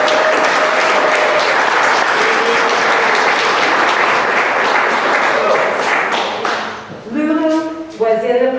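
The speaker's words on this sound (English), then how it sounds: "let's give her a round of applause" Dense, steady audience applause fills a music festival hall for a young flute performer, holding strong for several seconds before thinning out as a voice begins speaking over the last claps.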